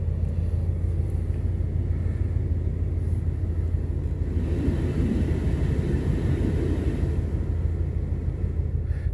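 Exhaust of a 2019 Ram 1500 Classic pickup with a muffler delete and y-pipe, a steady low rumbling drone heard from inside the cab, continuous and moderately loud with no talking.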